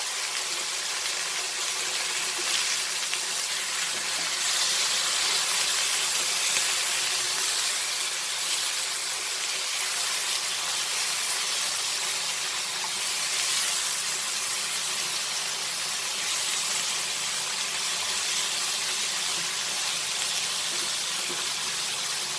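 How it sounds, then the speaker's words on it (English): Mackerel fish frying in a pan as a masala fish fry, a steady loud sizzle and hiss that runs unbroken, with no talking. "again you fry it till it is done"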